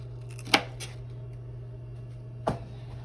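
Two crisp knife chops slice through plant-based Gardein chick'n on a board, one early and one near the end, each short and close, over a low steady hum.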